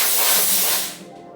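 A nitrous oxide canister releases its gas in a loud, steady, close hiss that tapers off after about a second.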